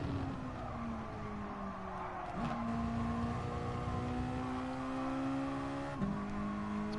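A race car drifting through a corner in Gran Turismo Sport, with a faint, steady engine drone and a soft, drawn-out tire skid, and brief shifts in pitch as the car slides.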